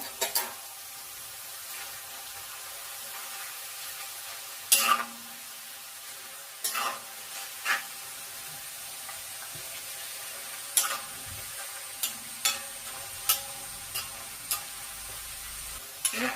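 Banana slices frying in oil for chips, a soft continuous sizzle and bubbling underneath, punctuated by occasional light clicks and scrapes of a utensil against the pan, close and quiet with no talking.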